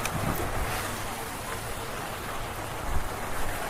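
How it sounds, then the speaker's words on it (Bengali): Heavy rain pours steadily during a night motorbike ride, a dense, loud, unbroken hiss with low wind rumble beneath it and a few brief thuds. "ভাই বৃষ্টিটা অতিরিক্ত স্টার্ট হয়ে গেলো"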